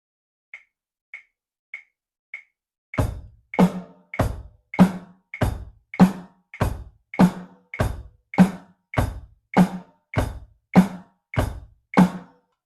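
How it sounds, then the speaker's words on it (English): A few light clicks count in, then a steady, simple drum beat plays: repeated kick and snare hits with tight closed hi-hat ticks in an even rhythm. "That is a very basic drum beat, probably the first drum beat that most people learn"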